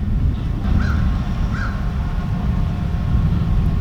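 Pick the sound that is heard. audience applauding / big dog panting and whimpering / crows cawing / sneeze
crows cawing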